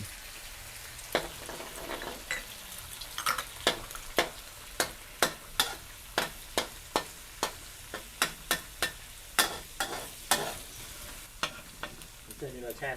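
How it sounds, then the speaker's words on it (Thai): Egg and glass noodles are stir-fried together in a pan, a soft continuous sizzle cut by a steady run of sharp, evenly spaced clacks from a spatula scraping and tossing. "เทไข่ลงไป"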